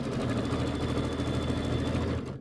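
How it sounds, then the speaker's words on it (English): A sewing machine runs steadily, stitching a flying geese quilt block held in place with a stiletto, producing a close, continuous mechanical whir that stops abruptly at the end. "Sew it down there."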